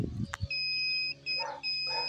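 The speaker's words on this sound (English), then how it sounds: "If you hear the beep, then that fuse is good." A multimeter in continuity mode beeps while its test leads touch the two contact points of a vehicle blade fuse: a steady high tone lasts about half a second, stops briefly, then sounds again twice, with faint handling noise around it.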